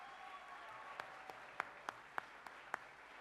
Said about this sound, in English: A big applause for Yolanda.